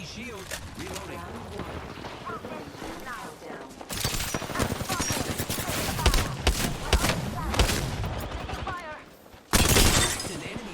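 Gunfire in a first-person shooter video game: rapid automatic bursts and single shots crackle densely and close, swelling into heavy volleys, with a player's voice talking over the fighting.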